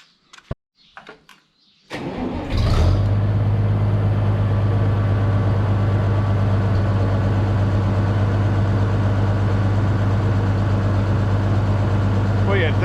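Gas tractor engine used with a 10-foot disc mower cranks and catches, then settles into a loud, steady close-up idle with a deep throbbing hum after a few handling clunks.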